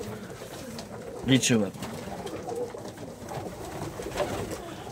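Young ornamental pigeons from a loft flock coo softly, with one louder burst of calls near the start, while someone talks over the birds in a quiet indoor setting.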